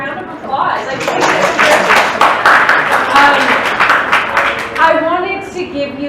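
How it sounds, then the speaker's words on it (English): A keynote audience claps and applauds, mixed with chatter and light laughter. Voices talk over the clapping, which swells in the middle and fades toward the end. "So give yourselves another round of applause."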